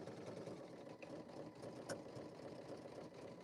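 A sewing machine running steadily through satin stitching, a dense continuous whir at low volume with no break across the short stretch and no voices.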